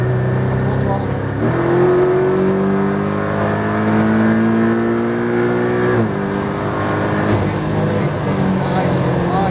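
A car accelerates at full throttle around a racetrack, its engine roaring loudly and steadily with rising pitch and a couple of gear shifts, while a driving instructor talks over it.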